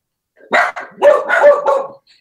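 Several close, loud dog barks in quick succession, one short yip followed by a cluster of excited barking.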